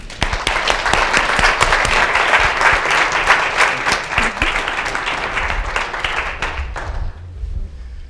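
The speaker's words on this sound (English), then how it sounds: "Please give a round of applause and congratulations to our featured author." Audience applause at a book launch event: a loud, dense burst of many people clapping that holds steady, then tapers off and dies away into quiet room tone.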